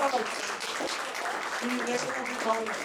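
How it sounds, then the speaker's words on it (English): Audience applause at a small business networking presentation in Raleigh, North Carolina, a steady wash of clapping with voices talking over it throughout. "let's give it a round of applause"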